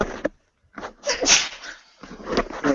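A single sharp sneeze bursts out in a webinar setting, with brief talk around it.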